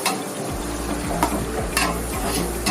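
Water leaf frying in plenty of oil in a pot, a steady hiss and sizzle with scraping stirring strokes and occasional clinks of the utensil against the pan, no voices.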